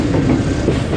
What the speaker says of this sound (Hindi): ट्रेन हमारी खानेवाल शहर में दाखिल हो चुकी है